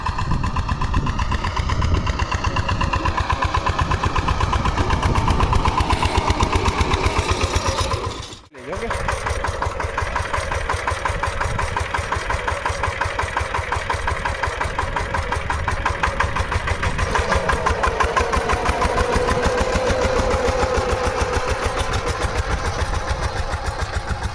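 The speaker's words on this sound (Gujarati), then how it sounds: "જો ટ્રેક્ટર કેવું ચાલે છે" A tractor engine chugs in a steady, knocking rhythm throughout, briefly dipping midway before settling back into its idle pulse, with someone talking over it.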